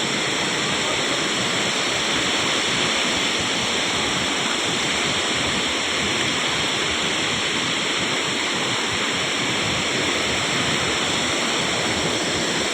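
A waterfall at a village dam pours with a loud, steady rushing roar that stays constant throughout, with no voices over it.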